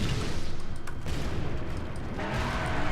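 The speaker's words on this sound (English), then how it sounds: "And there's a rocket." Rocket weapon fires in Bugbear's car video game, a loud rumbling blast with booming bursts and crackling debris, continuing as a dense roar over engine noise, with no talk.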